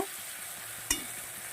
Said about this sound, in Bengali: এইভাবে যতক্ষণ ভাজা না হয় মাছটা আর মশলাটা ততক্ষণ আমি ভাজতে থাকব